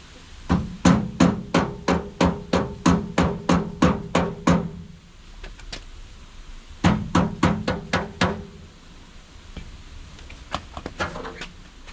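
Rapid, evenly spaced taps of a small hammer on a metal bed door of a Suzuki Carry kei truck, roughly a dozen in a run, a pause, then another burst of taps and a few lighter knocks.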